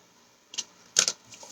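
Card stock cut for handmade card making, heard as a few short crisp snips or slices, with one small click and then a louder double cut, close up and with no talking.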